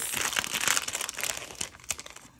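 Crinkling plastic packaging on a craft pack of ribbons and trims being handled and opened, a dense close crackle with sharp bursts, loud at first and thinning out.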